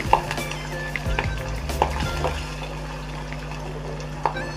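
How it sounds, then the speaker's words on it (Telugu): Coriander frying in hot oil in a home kitchen pan, a steady soft sizzle with a few sharp pops and scraping stirs scattered through. "చారు కొత్తిమీర కూడా ఆయిల్లో వేసి ఫ్రై చేసుకొని ఒకసారి ట్రై చేయండి బాగుంటుంది"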